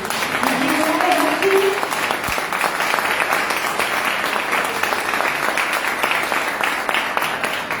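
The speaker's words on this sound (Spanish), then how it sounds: "Y un fuerte aplauso para nuestro Dios." Congregation applauding in a church during an evening Spanish-language service, sustained loud dense clapping that holds steady across the whole stretch, with a brief voice heard early on.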